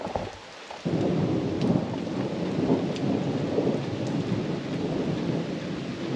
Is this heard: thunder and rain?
yes